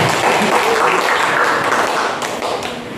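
A church congregation claps during a sermon service. The applause is dense, close and continuous, then thins slightly toward the end.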